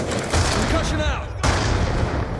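Concussion grenade going off in the Black Ops 2 multiplayer shooter, a sharp blast and rumbling burst amid gunfire and game effects, loud and close, followed by a second hit moments later.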